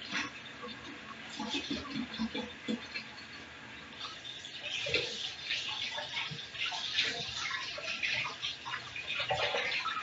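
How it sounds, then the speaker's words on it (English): Hands are washed under a running kitchen tap before handling dough, with a faint, steady trickle and splashing of water at moderate distance and a person briefly speaking over it. "I'm still here, just washing my hands."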